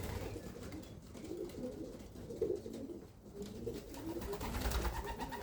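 Young pigeons at a pigeon loft cooing softly and repeatedly, a low steady murmur of several birds close by, with no talk over it.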